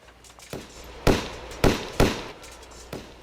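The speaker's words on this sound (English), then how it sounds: "you hear more gunshots echoing" Five or six sharp distant bangs ring out at irregular intervals, each trailing off in a short echo, with no voices.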